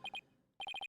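Phone ringtone in the video game Ace Attorney Dual Destinies: rapid electronic chirping beeps, two quick tones, a short gap, then a fast run of five more, clear and alone.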